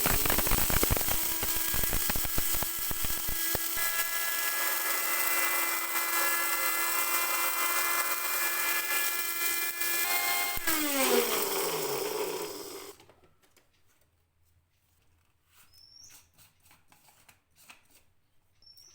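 A Dmart Bullet mixie grinds a small batch of dry pepper, cumin and fennel seeds, whirring loudly and steadily for about twelve seconds before the motor winds down and stops, leaving near silence.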